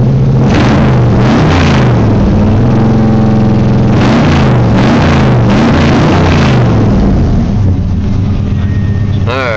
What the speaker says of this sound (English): It's got a 355 Corvette engine. Brand new out of the crate.